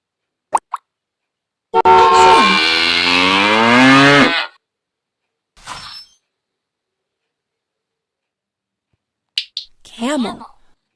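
A cow lets out a single long, loud moo with a rising-then-falling tone, preceded and followed by brief clicks and a short spoken word near the end.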